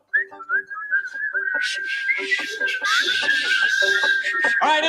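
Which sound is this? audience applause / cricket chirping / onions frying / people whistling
people whistling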